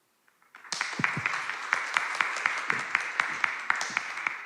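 After a moment of near silence, audience applause for a speaker at a tech conference stage starts abruptly and holds steady, with crisp claps from nearby hands standing out above the clapping crowd.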